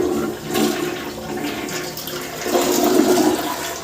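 A toilet flushing in a home bathroom, a close, loud rush of water that surges, eases briefly, then swells again into a sustained gurgling refill, with no talking.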